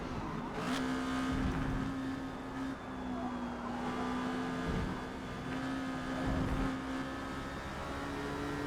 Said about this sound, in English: The turbo finally kicked in.